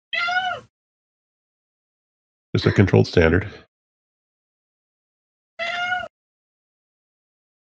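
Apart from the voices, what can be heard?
cat meowing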